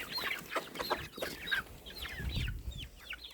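A broody hen and her autumn chicks in an outdoor run: thin chick peeps repeat rapidly and continuously, mixed with the hen's low clucks, all fairly quiet and close, with no talk.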